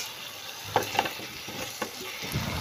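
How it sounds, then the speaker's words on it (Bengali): Spices stirred and fried in hot oil in a pan while cooking a Bengali egg and lentil-fritter potato curry: a steady close sizzle broken by a few sharp scrapes and clacks of the stirring spoon. "বেশ কিছুক্ষণ ধরে নাড়তে হবে যতক্ষণ না"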